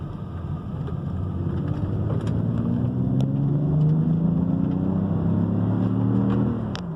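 A BMW X6 335i biturbo with direct injection revs up through the gears in manual mode, its engine note rising steadily in pitch over several seconds with wind buffeting, then easing off near the end; no talking.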